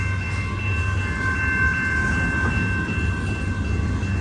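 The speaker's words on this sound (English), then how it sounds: "Quite a long train." Long Union Pacific freight train of covered hoppers climbing the Palmdale Cutoff, a steady loud rolling rumble with droning tones and wheel noise, close by and continuous.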